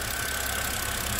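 A warm BMW E92 325i engine idles steadily, a continuous close-up running hum with no speech over it.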